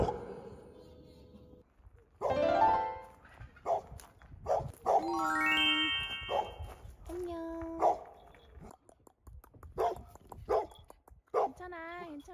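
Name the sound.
dog barking in welcome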